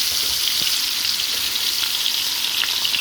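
Koi fish seasoned with turmeric, chili and salt sizzling in hot oil produces a loud, dense, continuous hiss with occasional sharp pops, heard up close without any talking.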